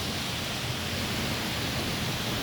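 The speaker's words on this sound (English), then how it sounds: "this is first time I'm seeing this much rain" Heavy rain falls in the UAE as a dense, loud, unbroken roar of water that fills the scene, with no voices.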